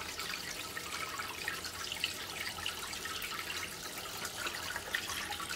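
Tap water runs steadily over a gas boiler part as it is rinsed clean, a soft continuous hiss and splash with faint dripping detail and no talking.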